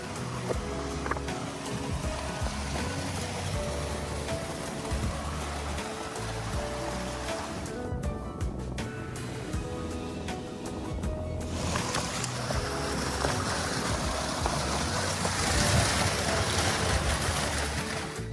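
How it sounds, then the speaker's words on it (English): Rushing water from a glacial waterfall pours steadily and loudly close by, a continuous broadband roar with brief shifts in intensity, as water bottles are filled beneath it. "Right now we are about to fill up our water bottle from the glacial waterfall."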